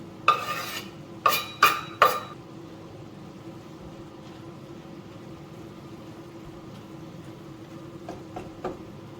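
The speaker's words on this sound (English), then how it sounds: "Add the broccoli and mix everything together" Broccoli stirred into a pan of green curry with peas and mint produces a few sharp utensil scrapes and clinks against the pot early on, then a quiet simmering background with faint taps near the end.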